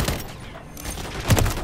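Dense rapid gunfire from a video game, sustained and loud across the whole short burst, with a heavier shot near the end and no talking.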